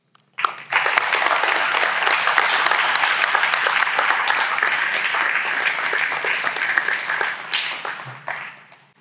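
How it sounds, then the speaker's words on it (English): Sustained audience applause at a school National Honor Society induction ceremony for the candidates, a dense wash of clapping that starts abruptly, holds steady for several seconds and tapers off near the end. "let's have one more round of applause for our candidates"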